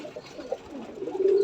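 A soft, low pigeon coo close by, rising slightly toward the end, with faint background noise.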